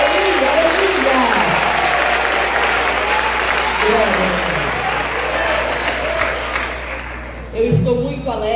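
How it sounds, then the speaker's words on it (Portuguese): A church congregation claps together in praise at a service in Boa Vista, Roraima, with dense, sustained applause for several seconds that thins near the end as a voice begins speaking. "Podem aplaudir ao Senhor nas palmas."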